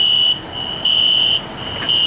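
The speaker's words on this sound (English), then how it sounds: "This is the first time I've ever seen a fire alarm go off in real life." A building fire alarm sounds a loud, steady high-pitched electronic tone, pulsing on and off in long beeps with no talking.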